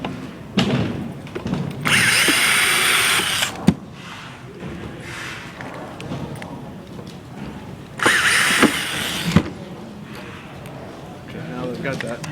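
A power drill backs out the chassis screws of a tube guitar amp in two short close bursts, while someone talks throughout.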